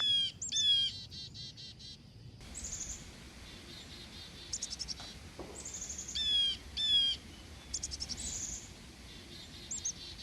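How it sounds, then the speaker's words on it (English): Chickadees and a blue jay call in a marsh: bursts of thin, rapid chirping notes and harsher calls come and go at moderate distance over a faint insect hum, with no talking. "The chickadees and a blue jay are going nuts."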